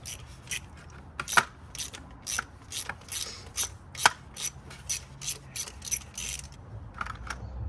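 Ratchet wrench fitted with an E6 E-Torx socket backing out starter studs on a BMW 3 Series, a series of short, sharp clicking bursts repeating in quick rhythm, close and loud.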